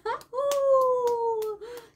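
A handful of sharp hand claps, about five, land unevenly beneath a small child's sustained high-pitched vocalizing, close by in a family setting.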